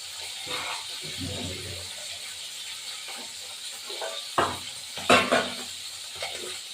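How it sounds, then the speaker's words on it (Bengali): Tilapia fillets fry in hot oil in a home kitchen pan, giving a soft, steady sizzle with brief louder crackles and spatters near the end as the fish is turned; quiet and close. "ভাজা হোক তারপরে চৌকি দিয়ে দেবো এবার আমি মাছটা উল্টাবো"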